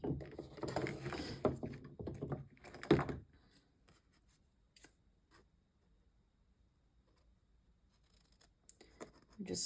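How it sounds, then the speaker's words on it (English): Scissors cut through scrapbook paper for handmade cards in a few quick snips, close and soft, with a person talking at the start and near-silence afterward. "Just flip it over and we're just cutting off the excess right to the edge of that white base."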